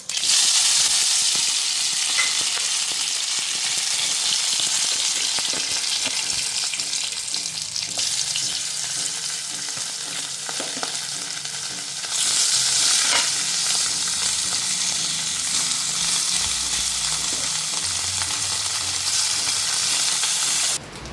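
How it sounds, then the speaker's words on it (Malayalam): Small fish fry in a hot pan with oil, a loud, close and continuous sizzle that lasts throughout, with only slight dips and no talking. "ചെറിയ പൊടിമീൻ കിട്ടിയിട്ടുണ്ട് അപ്പോൾ അതൊന്ന് വറുത്തെടുക്കാം"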